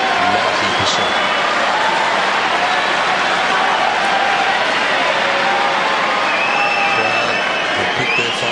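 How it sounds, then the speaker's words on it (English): A large tennis crowd at the 2003 Australian Open match between Roddick and El Aynaoui roars steadily and loudly for their favourites, a dense unbroken wall of cheering throughout. "Crowd have picked their favourites and they're roaring them onto victory"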